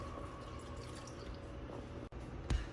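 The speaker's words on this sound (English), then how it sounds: "we're gonna go ahead and add 2 cups of water, which should be just enough to cover all of the meat" Water poured into a pan of tocino meat in a kitchen, a faint, steady trickle and drip with a single small splash near the end.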